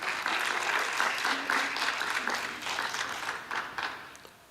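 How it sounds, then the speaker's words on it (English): Steady applause from a church congregation, a continuous patter of many hands at moderate distance, fading slightly near the end. "So a last round of applause again."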